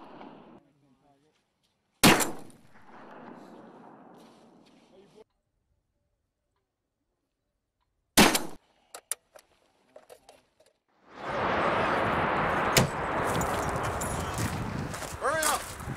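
A Humvee-mounted .50 cal machine gun lets off a few sharp, loud single reports spaced seconds apart, heard from the crew's interior position, followed by a roaring wash of vehicle and blast noise as crew members talk.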